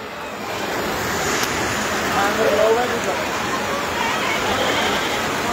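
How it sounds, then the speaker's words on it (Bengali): Rain falls steadily outdoors in a rural setting, making a constant close wash of hiss that swells slightly midway and never pauses. "গরু এই যে বৃষ্টি পড়তেছে"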